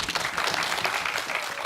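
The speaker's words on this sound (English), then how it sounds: "Give yourselves a round of applause." A television studio audience on Big Brother's Bit on the Side applauds in a dense, even wash of clapping that holds steady for under two seconds.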